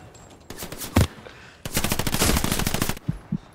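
Video game gunfire rings out in two bursts, a short rapid volley and then a longer sustained machine-gun stream of sharp close shots, followed by a couple of isolated bangs.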